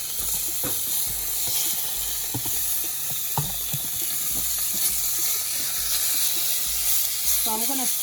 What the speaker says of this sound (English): I'm gonna sear my pork on all sides and keep turning it